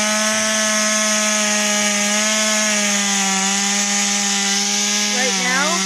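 A chainsaw cuts a notch into a small log at an off-grid homestead, its engine holding a loud, steady whine throughout with a brief pitch dip near the end.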